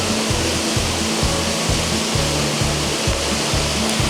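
A waterfall in Wicklow, Ireland, roars steadily close by, a dense continuous rush of water with no voices.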